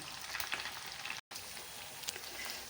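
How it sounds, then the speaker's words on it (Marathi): Rolls of alu vadi made from leftover chapati frying crisp in oil, a soft, even sizzle heard close but faint, broken once by a brief moment of total silence. "मस्त अशा खरपूस फ्राय होत आहे"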